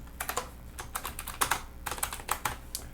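Quick bursts of computer keyboard typing as a preset name is entered in Pro Tools, with irregular clusters of close, crisp key clicks and short pauses between them, quiet and with no talk.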